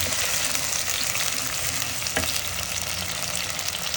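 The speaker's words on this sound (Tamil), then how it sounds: "நாலு வெங்காயம் விட்டுருக்குறோம் இது நல்லா பொறிஞ்சு வரட்ட மக்களே" Four small onions fry in hot oil for a mutton rib bone curry, a dense continuous sizzle up close with a faint stirring scrape partway through and no talking.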